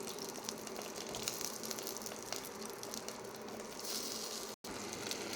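Onions frying in a pan on an induction stove: a bright, continuous crackling sizzle heard close, with a brief dropout near the end and no talking.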